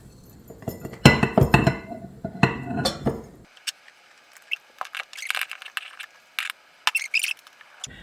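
Pickled eggs and brine go into glass jars, giving light glassy clinks and small splashy taps, with louder clustered handling in the first few seconds and then sparse, quieter clinks and rattles.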